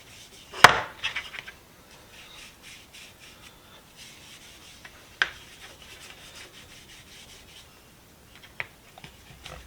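Dark finishing paste wax is rubbed by hand onto the wooden handle of a restored 3 lb lump hammer, with faint, intermittent soft rubbing and a few sharp scuffs and taps at close range.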